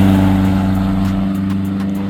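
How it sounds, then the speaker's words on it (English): A Toyota Land Cruiser 79 with the 2.8 GD-6 diesel engine drives on urban roads, its engine a steady, close low drone that eases off slightly with no talking. "I also took it for a drive in an urban setting."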